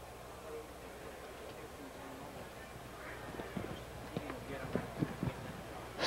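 Harness racing horses trotting in the championship dash of the World Trotting Derby at the DuQuoin State Fair, hooves clip-clopping in a rising run of sharp beats over a steady crowd and track roar.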